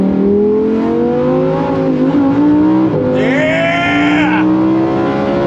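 A 2024 Lamborghini Huracan Sterrato's V10 roars loudly and continuously close by, its pitch climbing and dipping as it revs, with a brief high whine or tire squeal partway through.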